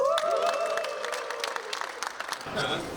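A crowd claps in a dense burst of applause while a voice speaks over it, then the clapping thins out.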